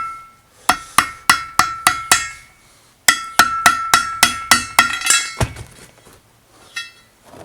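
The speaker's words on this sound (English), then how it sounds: "Dollar store pry bar." A cheap dollar-store pry bar strikes metal while prying a part off a C10 pickup wheel, giving sharp ringing clanks in two quick runs of about seven hits each, then a final lone clank, close and loud.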